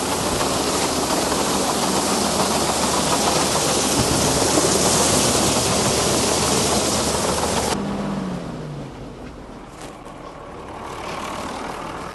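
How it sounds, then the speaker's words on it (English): Freezing rain falling steadily in cold weather around a grain-hauling operation, a dense loud hiss with a low vehicle rumble beneath that drops away abruptly partway through, leaving a quieter wash. "Man, we got freezing rain"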